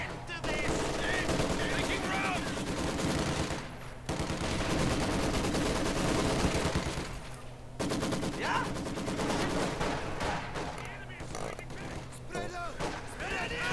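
Maxim machine gun fire in the Company of Heroes 2 video game, rapid bursts running nearly continuously and mixed with dense battle noise, with brief lulls between volleys.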